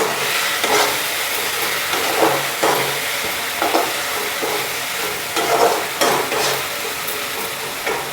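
Chicken with masala, garlic paste and green chillies frying and sizzling in a pan while being stirred, with a steady hiss broken by repeated scraping strokes of the spoon.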